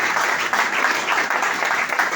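Church congregation applauding during a service, a dense steady wash of clapping from many hands, close and sustained for the whole short stretch.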